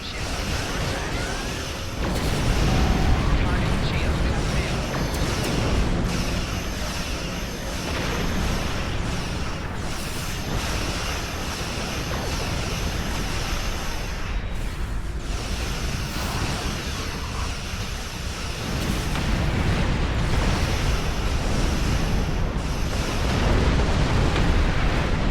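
Starship weapons in the space game Star Trek Online roar in a loud, continuous barrage of blasts and rumbling explosions lasting the whole stretch, dense and unbroken, with no voices.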